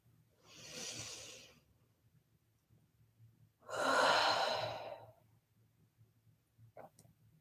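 Two long, deep breaths during a yoga stretch, an inhale-exhale around the first second and a louder, fuller one near four seconds, close and alone with quiet between, ending in a short sniff.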